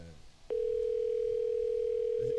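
A telephone call's ringing tone starts after a moment of talk and holds as one steady, clear electronic tone to the end.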